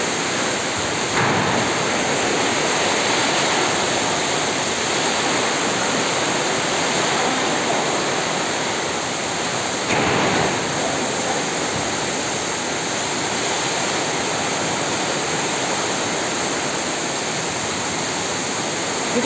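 Heavy rain driven by strong storm wind, a dense, steady rushing hiss that stays loud and unbroken throughout, with no voices.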